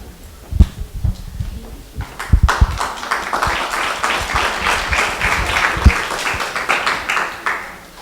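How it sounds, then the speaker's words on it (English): An audience claps, a few scattered claps swelling into steady, dense applause that holds for several seconds, fairly close and without talk over it. "You don't know if I'm worth applauding, but I appreciate it nonetheless."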